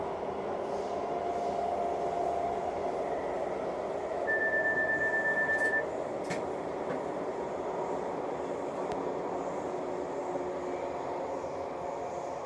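A train travelling from Bond Street towards Abbey Wood rumbles along at a steady, unhurried pace with a continuous low roar, a faint squeal rising briefly partway through.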